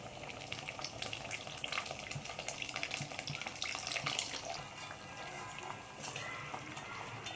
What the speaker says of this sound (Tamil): இப்போ நம்ம வந்து புளியை கரைச்சி இதில் ஊற்றிக்கலாம்